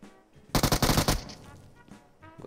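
A loud, close burst of rapid gunfire in PUBG Mobile, an AWM sniper mentioned, lasting about half a second before fading into quieter game ambience.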